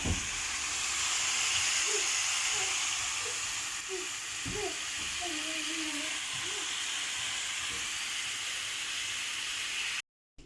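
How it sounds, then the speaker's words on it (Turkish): A steady hiss of bubbling and light sizzling from tomato sauce in a pan on low heat, with occasional soft pops, continuous until it cuts off abruptly. "sosumuz kısık ateşte kaynıyor"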